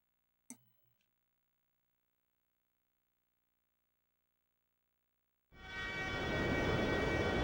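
Subway train in the video game Hybrid Heaven, heard as a brief click early on, then near-silence, then a sudden loud rumbling roar of the train rushing past that continues to the end.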